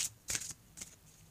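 Oracle cards shuffled by hand at a reading: two or three quick, soft riffling swishes of card stock, close and quiet, separated by brief pauses.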